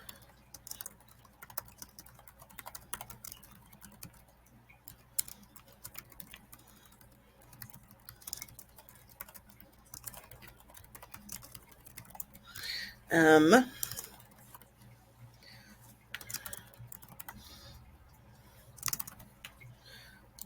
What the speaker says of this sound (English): If you start typing, it'll start giving you some suggestions.